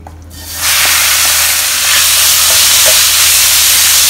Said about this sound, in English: as you're frying the pork, more fats will come up from the pork